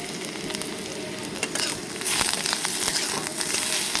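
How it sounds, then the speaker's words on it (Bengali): Onion with crushed ginger and garlic frying in a wok, a dense hiss of sizzling oil with crackles that swells louder midway, close up and with no voices. "এবার এর মধ্যে দিয়ে দেবো আদা রসুন থেতো করা।"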